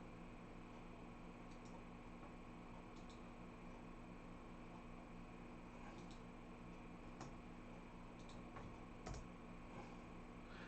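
Soft, sparse clicks of a computer keyboard being typed on, irregular single taps spread across several seconds over a steady low hum, quiet and close.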